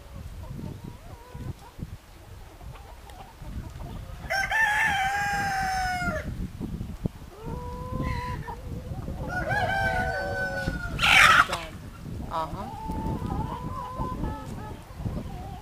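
Farmyard hens cluck and a rooster crows several times, the long crows ringing out clearly over a background of scratching and low clucking nearby.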